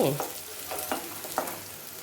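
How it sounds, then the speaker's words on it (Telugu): Finely chopped onions frying in a pan for a spicy chicken fry gravy, a close crackling sizzle with several quick stirring scrapes. "చూడండి, వేగుతున్నాయి కదా"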